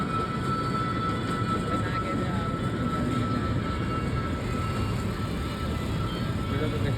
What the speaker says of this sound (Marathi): तुम्ही बघू शकता टॉय ट्रेन हे बघा